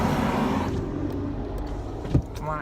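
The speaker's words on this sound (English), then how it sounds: "wow, trucks going by" Trucks passing on the road, heard from inside a car: a broad rushing roar that swells and fades over a few seconds, with a short thump near the end and no talking.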